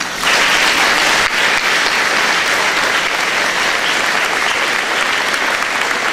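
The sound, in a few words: audience applause at graduation prom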